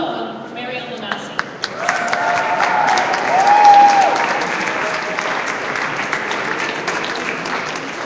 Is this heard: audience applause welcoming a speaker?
yes